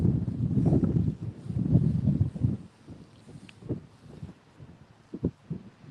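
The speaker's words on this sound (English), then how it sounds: "Big gust of wind, huh?" A strong gust of wind buffets the microphone outdoors on a Kentucky horse farm, a heavy low roar that surges, then eases into softer rustling with a few light knocks near the end.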